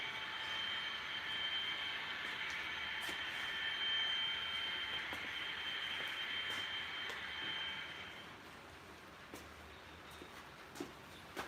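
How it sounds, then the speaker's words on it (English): A model train locomotive in a train shed runs with a faint, steady high-pitched wheel squeal over a low rumble, the squeal dropping away after about eight seconds, with a few light clicks afterward and no talking. "And the squeal off that locomotive is just way too much."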